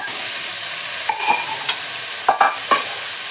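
Marinated, spiced chicken tipped into a hot pot and stirred, sizzling steadily throughout with a few scraping stir strokes standing out near the end, close and fairly loud with no talk.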